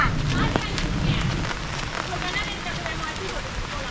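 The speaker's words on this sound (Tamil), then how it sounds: "மழை பெய்யுது" Rain falls steadily and close at hand, a dense patter on a surface at a cardamom store in Kerala. Voices talk faintly beneath it.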